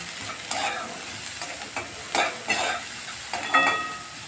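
Stuffing for stuffed bitter gourd, spiced with cumin and Kashmiri chili powder, fries in a pan under a constant close sizzle. Several sharp scraping strokes of a spatula stir it at irregular intervals, with no talking.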